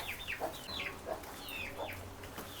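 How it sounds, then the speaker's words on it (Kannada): A rooster kept tied up on a farm clucks and calls in several short bursts, fairly close and steady over a background of faint farmyard hum, with no voices. "ಇದು ಹುಂಜ ಇದು ಕಟ್ಟಾಕಿ ಇದು ಮಾಡಿದ್ದೀವಿ"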